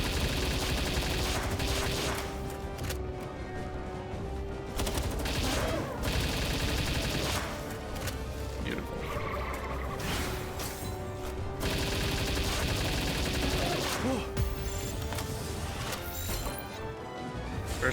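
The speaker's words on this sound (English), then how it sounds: "Would you like to eat a couple clips of assault rifle ammo?" Assault rifle gunfire in the video game Palworld, with dense, continuous bursts of shots, crashes and impacts layered over game music throughout, loud and close.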